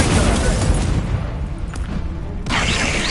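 An Incendio fire spell cast in the Hogwarts Legacy video game: a loud, roaring burst of flame that fades over about a second, then a second fiery whoosh near the end amid combat noise.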